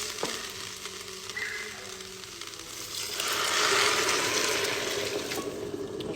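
Water poured into a pan of cooking lentils with parsley hisses and sizzles steadily, swelling louder partway through as more water hits the hot pan; no voices.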